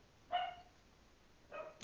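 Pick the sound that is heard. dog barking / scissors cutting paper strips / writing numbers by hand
dog barking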